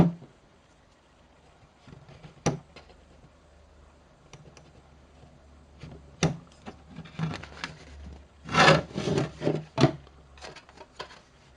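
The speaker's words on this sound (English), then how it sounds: "Then you can just clean it up with a file." A file scrapes over a cut plastic Tamiya model tank fender to clean the edge, making a few sharp rasping strokes and a dense cluster of scraping near the end, with quiet handling sounds between them.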